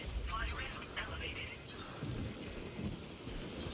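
Rain and rolling thunder in the Death Stranding 2 video game, a soft steady downpour with low rumbles swelling and fading, fairly quiet and continuous.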